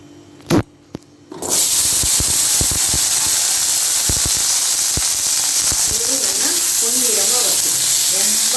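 Small onions hit a hot pan after a few quiet knocks, bursting into a loud, steady sizzle and hiss, with light scraping and popping as they fry.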